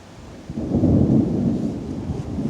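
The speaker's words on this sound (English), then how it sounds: "I hear thunder, but I see no lightning." Loud thunder from a nearby thunderstorm rolls in as a deep, sustained rumble that swells quickly and then lingers, with faint rain-like hiss underneath.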